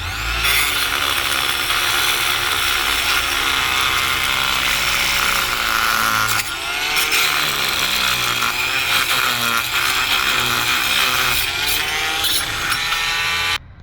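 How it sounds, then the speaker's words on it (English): A continuous, loud, buzzing whine from an oscillating multi-tool scrapes hardened concrete and mortar off a putty knife, close up. The pitch and grind shift as the blade presses in, and no one speaks. "this is multi oscillating tool, okay, which is already loaded with a blade. So I'm gonna use it now"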